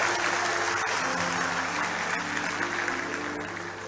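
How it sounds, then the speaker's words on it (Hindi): Steady audience applause at a large public event in India, a dense continuous patter of clapping that stays even before easing slightly at the end, with a faint tonal hum beneath. "आपकी तालियां कमजोर पड़ गई हैं"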